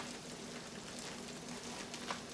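Meat sizzling flat in a skillet, a faint steady crackle and hiss with soft scattered pops.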